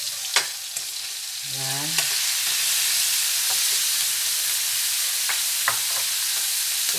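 Snow peas frying in butter in a pan for a shrimp sauté give off a loud, steady sizzle that builds and holds, with a few sharp stirring clicks and one brief spoken word.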